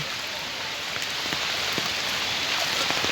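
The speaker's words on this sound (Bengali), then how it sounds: "অজোরে বৃষ্টি পড়ছে বৃষ্টি বন্ধই হচ্ছে না" Steady heavy rain pours down on a waterlogged city street, a dense continuous hiss with scattered drops pattering on a hard surface throughout.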